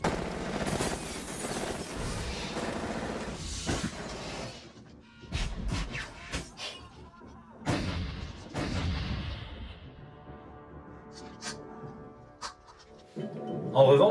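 Replacement gunshot effects from the Terminator special edition ring out as loud bursts and rapid volleys, separated by quieter gaps, with a final sharp shot at the end and no talking.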